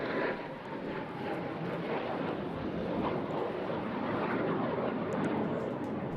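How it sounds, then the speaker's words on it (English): Eurofighter Typhoon fighter jet performing a very slow roll at an airshow on the English coast, its engines a steady, loud broadband roar that holds throughout without gaps. "now this can be tricky, a very slow roll from a very big, heavy jet."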